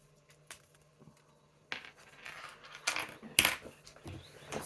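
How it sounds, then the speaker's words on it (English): Metal scissors tangled among craft supplies, clinking and rattling in several short bursts as they are pulled free, close by and moderately loud against a quiet room. "Hold on, scissors are tangled."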